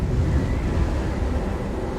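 Strong wind buffets the microphone on a cold trek, producing a loud, steady rumbling roar with no break.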